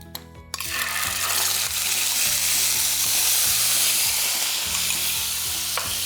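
Yogurt hits hot oil tempered with mustard seeds, cumin and a pinch of asafoetida, sending up a loud, dense sizzle after a brief quiet start, then a steady crackling hiss over low bubbling hum.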